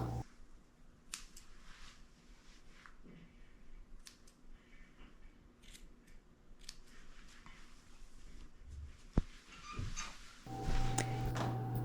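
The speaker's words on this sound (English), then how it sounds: "I gotta come in here with my scissors and trim it off." Scissors snip a Shih Tzu's hair at close range, giving small crisp clicks and ticks scattered over a quiet grooming table, with a slightly louder snip near the end.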